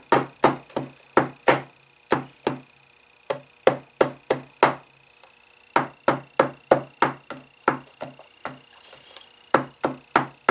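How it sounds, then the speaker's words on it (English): Hammer tapping on a leather Finnish Luger holster during reassembly, a run of sharp, evenly spaced knocks in quick bursts with short pauses between groups, close and distinct. "that end of the hammer comes in handy."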